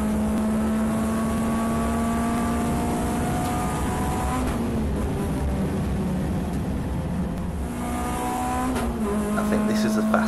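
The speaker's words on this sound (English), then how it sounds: "listen to that little four-cylinder from Renault scream" A Renault four-cylinder race car screaming through a lap of Donington at a track day, its high engine note rising and falling through the gears, dipping midway, with someone talking over it.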